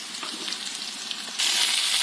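Green chilies, onion and fennel seeds sizzle steadily in hot oil close up, and the frying grows suddenly louder and brighter partway through.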